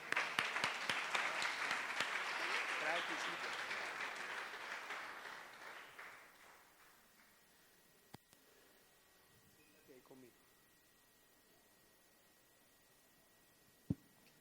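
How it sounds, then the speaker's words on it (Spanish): A church congregation applauds during a sermon, a loud burst of clapping that swells at first, then fades over several seconds into near quiet with a few faint knocks. "Démosle un aplauso al Señor, por favor."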